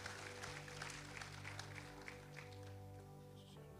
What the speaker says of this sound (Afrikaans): Lekker hande klap.